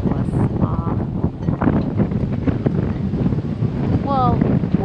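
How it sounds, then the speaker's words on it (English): Strong wind buffets the microphone aboard a yacht approaching a marina, a loud continuous rumbling gust noise throughout with faint water and engine undertones and brief voices in the background. "Well, boy, it's so windy."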